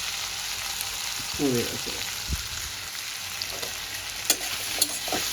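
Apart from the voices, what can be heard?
stirring potato capsicum sabzi with salt and turmeric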